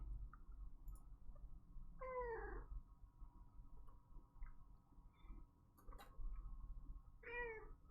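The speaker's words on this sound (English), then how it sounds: "Meow. Meow." A cat gives two distinct meows several seconds apart, quiet and fairly close, over a low background hum.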